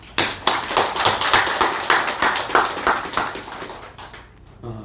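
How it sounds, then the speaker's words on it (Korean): A church congregation clapping after a prayer at a Sunday service, a loud run of fairly rhythmic claps that thins out and fades near the end. "우리 하나님께 감사와 영광의 박수 올려드리겠습니다"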